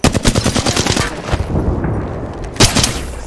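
Rapid automatic gunfire from an Apex Legends firefight, a dense rattling burst of shots for over a second, a brief lull, then another loud volley near the end.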